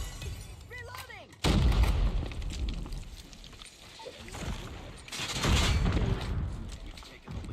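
A USS9 submachine gun fires in bursts while sliding in a multiplayer shooter game, loud rapid gunfire with impacts and a game announcer voice over the action.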